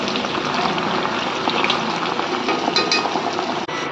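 Chicken Manchurian pieces deep-frying in oil on low heat, a continuous close crackling sizzle with dense spatter pops, steady in loudness with a brief dip near the end.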